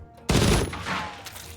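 A sudden loud burst of gunfire in a video game, with a sharp onset and a dense, ringing blast that fades over about a second, with a smaller follow-up crack.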